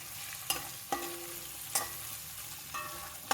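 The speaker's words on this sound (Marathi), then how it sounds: "तेजपत्ता मिरे आणि दालचिनी आणि लवंग हे टाकून घेतलंय आता हे हलवून घेऊ थोडा वेळ" Whole bay leaf, peppercorns, cinnamon and cloves fry in a pan for spinach pulao, stirred with a few distinct scrapes over a low, steady sizzle, moderately quiet and close.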